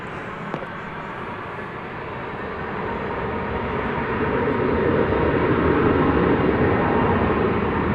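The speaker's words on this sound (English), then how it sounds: "Here's an American Airlines Airbus A319 arriving from Pensacola," An American Airlines Airbus A319 arriving at DFW Airport from Pensacola, Florida: a steady, broad jet rumble that slowly grows louder across the stretch, heard alone with no talk.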